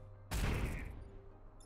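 Gunfire in the turn-based strategy game Into the Breach: one sudden loud burst of shooting with a deep boom that rings out and fades over about a second, without talk.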